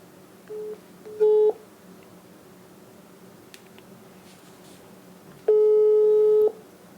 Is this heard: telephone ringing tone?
yes